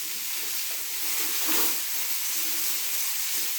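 Aluminium foil unrolled in a kitchen while a rib of beef finishes cooking in a pan, a steady crinkly hiss throughout with a slightly louder rustle midway, no voices.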